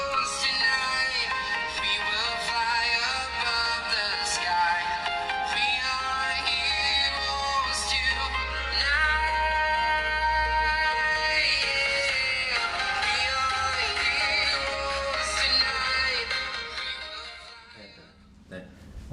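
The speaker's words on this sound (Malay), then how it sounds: "So jom kita testing sikit speaker satu dia, mono speaker dia bunyi macam mana." Music plays at full volume through the single mono speaker of an Honor 50 Lite phone, bright and busy with strong treble and thin bass, continuing steadily before fading near the end, with no talking.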